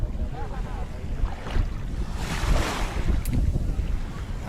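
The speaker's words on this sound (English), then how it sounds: "There's some big waves every once in a while from those jet skis." Waves stirred up by jet skis wash onto a beach in Osaka, a rolling surf surge over steady wind noise on the microphone, swelling loudest around the middle.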